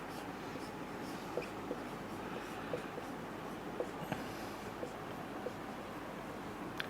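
Pen writing out a maths expression on paper or a board during an economics lesson, faint light scratches and small taps at an irregular pace over a steady background hiss, no talk.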